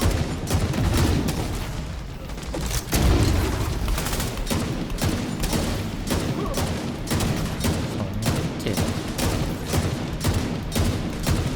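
In The Division 2, an assault rifle fires rapid, dense bursts of loud gunshots, nearly continuous with brief gaps, and a heavier boom near the start.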